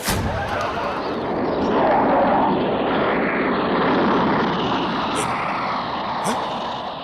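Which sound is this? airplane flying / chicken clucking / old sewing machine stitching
airplane flying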